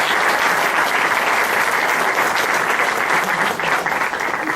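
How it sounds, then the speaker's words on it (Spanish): A strong, sustained round of audience applause at a quantum mechanics seminar welcoming Dr. Jaime Avendaño López, dense clapping filling the room evenly throughout before tapering slightly at the end. "recibámoslo con un fuerte aplauso"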